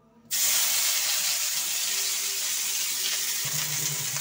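Whole small okra hitting hot oil, a sudden loud hiss that jumps in after a quiet moment and then settles into a steady, close frying sizzle.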